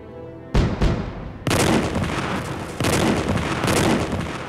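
Loud artillery barrage from a WWII assault on Casa Berardi in Italy: two sharp booms, then continuous roaring, rumbling bursts of gunfire and explosions swelling in waves, with no speech.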